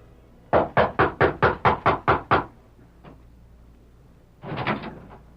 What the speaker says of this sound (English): rapped at the back door of the ranch house